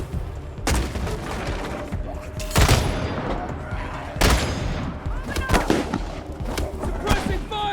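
Bursts of gunfire crackle in the Wasteland 3 video game, with several heavy volleys and scattered shots over a busy combat soundscape, close and loud, and voices heard amid the shooting.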